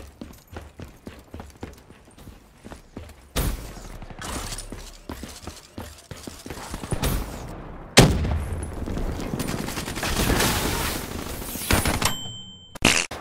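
Gunfire in the shooter game Call of Duty Black Ops 3: a rapid series of sharp shots early on, then louder, denser bursts and heavy blasts with clattering action.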